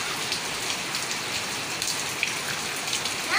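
Steady rain patters on a surface, a dense hiss of falling drops with occasional louder splashes, no voices.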